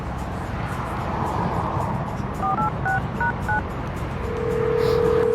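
A phone number is keyed in on a mobile phone, a quick series of about seven short dial beeps in an irregular rhythm over car interior rumble, followed by a sustained ringing tone.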